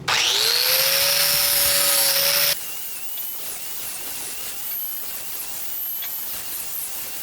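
An angle grinder works on a stainless steel grease trap, starting with a loud, high-pitched whine that stops abruptly after about two and a half seconds, followed by quieter workshop noise and faint scraping.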